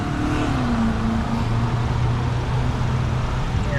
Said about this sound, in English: there's cars in the background that are driving